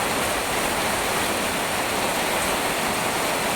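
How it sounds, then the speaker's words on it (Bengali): Heavy monsoon rain pouring off a tin roof: a dense, steady roaring wash of falling water, loud and unbroken, with no voices over it. "ওদিকে টিনের ইটের জল পড়ার দেখুন, স্পিড দেখুন কিভাবে জল পড়তেছে।"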